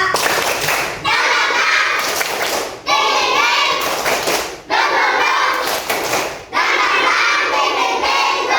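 Children in a group clap out a rhythmic spirit cheer, bursts of fast hand claps broken by short pauses into about four phrases, loud and close.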